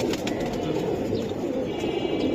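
A brown-necked pigeon and others coo softly amid a dense, steady murmur of surrounding noise at a pigeon market.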